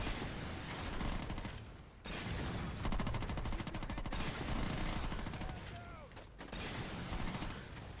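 Gunfire in the PS3 video game Saints Row 2 comes as dense, rapid bursts of shots, loud and close. Brief gaps break the volleys before the firing resumes.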